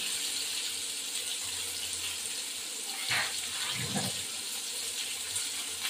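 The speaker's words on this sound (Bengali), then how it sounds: "এই কটা কাঁচা লঙ্কা ধুয়ে দিয়ে দেবো।" Running tap water splashes steadily over a handful of green chillies being rinsed in a home kitchen, with a couple of brief louder splashes and clatters midway.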